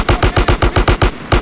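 Rapid automatic gunfire in GTA San Andreas during the final mission, a steady burst of about ten loud, evenly spaced shots with no talking.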